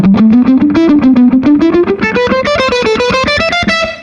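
Electric guitar playing a rapid alternate picking exercise, evenly spaced picked notes climbing steadily in pitch and ending on an E, loud and close with no voice.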